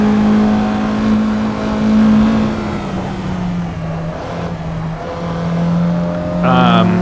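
A Mazda MX-3 in Assetto Corsa, its engine holding a steady droning note that dips and rises as it drives, with a brief higher rev near the end, under someone talking.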